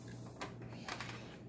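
A black ink cartridge is pushed into an Alps MD-1500 printer: a couple of short plastic clicks and scrapes rise over a steady low electrical hum, close to the mic.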